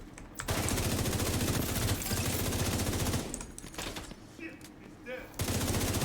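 Shotgun fire in The Division 2 as enemies rush in, dense rapid bursts of gunfire with brief pauses between volleys, loud and close, with talk mixed in.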